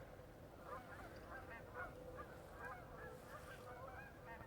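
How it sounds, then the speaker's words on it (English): Geese honk in a scattered chorus of repeated calls, faint and distant, over steady wind-like background noise near a frozen lake. "Geese. I hear them."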